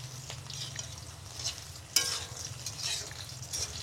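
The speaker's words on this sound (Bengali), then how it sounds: "অনেকক্ষণ ধরে নাড়াচাড়া করেছি" Potatoes frying in a pan are stirred, giving a soft, quiet sizzle with a few scraping strokes and one sharper clack near the middle, with no voices.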